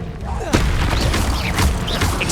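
An Incendio fire spell bursts out in Hogwarts Legacy with a sudden loud whoosh and rumble, amid continuous battle effects and a voice speaking over it.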